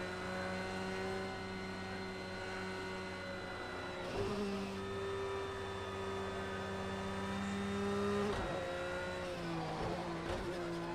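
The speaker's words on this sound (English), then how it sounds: "Car just wants to slide, as you can see there." Race car engine in the Project CARS 2 racing game, driven at Fuji, holds a steady high drone with gear-change dips and revs as the car slides through a corner, alone without talk.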